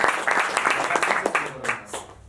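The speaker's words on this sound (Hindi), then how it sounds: "तो चलिए फिर से भाई के लिए एक बार जोरदार तालियां हो जाए।" An audience at a poetry gathering breaks into loud, close applause, with sharp irregular claps that build and then taper off into a few scattered hand claps.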